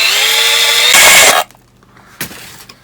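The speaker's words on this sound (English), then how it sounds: "the step drill actually works okay without that" A power drill with a step bit bores through a thin metal Altoids tin, giving a loud whirring grind that climbs in pitch and then stops abruptly, followed by a brief clunk of the tin.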